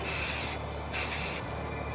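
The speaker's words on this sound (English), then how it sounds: "Spray painted at night, always awesome." Aerosol spray paint applied at night to a large model sculpture with fur, heard as two sharp hissing bursts of about half a second each, separated by short pauses, close to the microphone.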